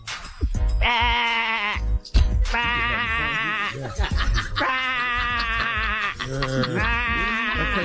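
A voice imitates a bleating sheep with several loud, wavering baa calls in a row, close up, with brief breaths and a little laughter between them.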